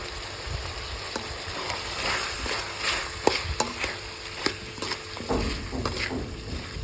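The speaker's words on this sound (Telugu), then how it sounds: "గ్రేవీ అంతా వేయించుకోండి." Chicken gravy with ginger paste and turmeric fries in a pan with a steady sizzle, punctuated by repeated scraping and clinking of a stirring spoon, close and moderately loud, no voices.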